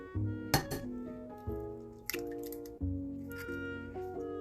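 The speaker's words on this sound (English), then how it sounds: "So we're just gonna whisk it together." Milk and a large egg are whisked together in a bowl, giving a series of bright clinks and taps of the whisk against the bowl, close and fairly quiet, with uneven pauses between strokes.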